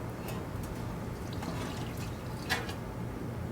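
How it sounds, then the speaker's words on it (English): Water trickles and drips steadily as it drains from the water pan of a Henny Penny HHC-99X holding cabinet, a faint, continuous pour with a brief brighter splash, no voices. "drain the water pan into a shallow pan, and then pour this into a floor drain"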